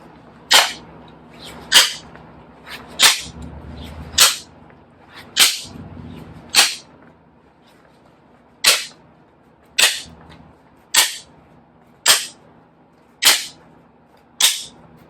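Sharp, loud chopping impacts strike one after another at a steady pace, about a dozen heavy blows with a pause midway, no voices.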